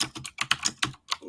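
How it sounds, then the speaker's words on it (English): Quick, uneven keystrokes clatter on a computer keyboard, a close burst of about a dozen taps with brief pauses between them. "I'm sorry if you hear my typing."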